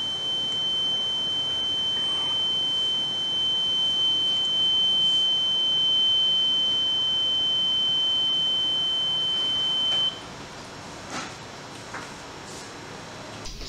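A reconditioned smoke detector head under test sounds a steady, piercing alarm tone for about ten seconds, then cuts off, leaving faint room noise.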